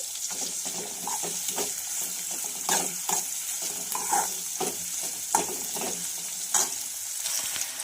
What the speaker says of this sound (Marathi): तर आपल्याला कांदा हा गुलाबीसर रंगापर्यंत फ्राय करून घ्यायचा आहे।